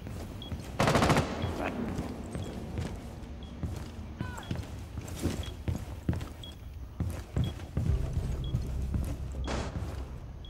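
Gunfire in the shooter game Rainbow Six Siege, with a heavy burst of automatic fire followed by scattered single shots and clattering impacts, mixed with game ambience and voices of players talking.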